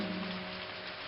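Steady rain falling on a surface, a dense continuous hiss with soft patter throughout, no voices.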